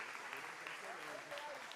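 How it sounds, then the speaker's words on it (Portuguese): A church congregation gives the Lord a continuous round of applause, faint and distant, with voices speaking over the clapping. "Dá uma salva de palmas ao Senhor"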